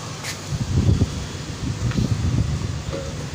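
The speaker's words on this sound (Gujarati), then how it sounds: "પવન પણ એટલો આવે છે અને ઠંડુ વાતાવરણ પણ એવું ને એવું જ છે" Strong wind blows steadily outdoors in hot summer weather just before rain, a broad rushing and rustling noise with gusty swells, no voices.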